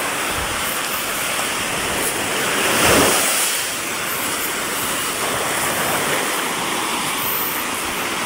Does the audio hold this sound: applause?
no